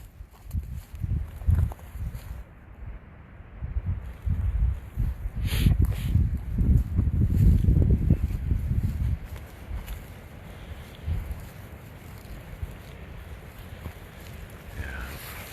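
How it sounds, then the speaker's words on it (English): Wind blows across a hillside on a spring night walk, a low rushing rumble swelling in the middle and then easing off, with a few faint knocks and no speech. "Yeah, the wind is interfering."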